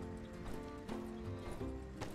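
Horse hooves clip-clopping in the video game My Time at Sandrock, a steady, fairly quiet walking rhythm of hoof strikes with soft background game ambience.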